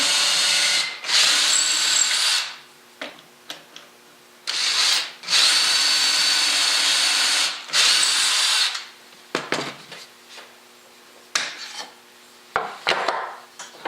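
A power drill whines loudly in several bursts, boring a hole in wood for a miter joint plate with a rasping grind, separated by short pauses and quiet handling noises.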